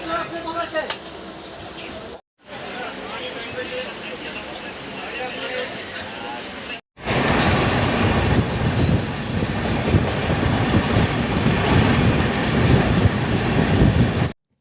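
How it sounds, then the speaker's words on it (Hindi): Inside a moving passenger train coach in India, a loud continuous rumble of wheels on rails with hissing and faint squeals, interrupted by two brief cuts, with people talking in the background. "ट्रेन चल ही रही थी"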